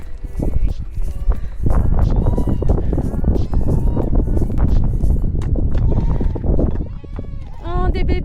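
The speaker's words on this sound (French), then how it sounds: "Il y a des bébés. Des bébés chèvres." Baby goats and sheep on a farm in Morocco bleat loudly and often, several animals calling over one another at close range, while people talk warmly to them throughout.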